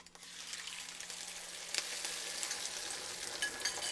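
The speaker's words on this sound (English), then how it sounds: "And you fry the eggs to your desired brownness." Eggs fry in a hot pan with a steady, bright sizzle and crackle, constant and close with small pops scattered through it.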